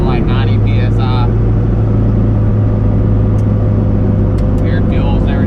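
A single-turbo car engine drones steadily at a loud, constant pitch, cruising under the load of acceleration during a test drive, with a voice speaking briefly at the start and near the end.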